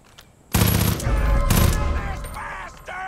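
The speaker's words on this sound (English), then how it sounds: "who's shooting now?" A burst of heavy automatic gunfire in Far Cry 5, loud and close, with rapid overlapping shots and a second burst following, over a dense game soundtrack.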